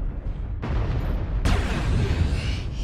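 LRM missiles slam into a mech in the video game MechWarrior Online, fired from a Catapult C1. Two heavy booming impacts land, each followed by a long rumbling wash of explosion noise.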